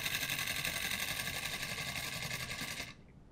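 Small homemade 3-pole DC motor whirring steadily with a buzzy, high-pitched hum after starting from a capacitor, running close and continuous for about three seconds before cutting off abruptly.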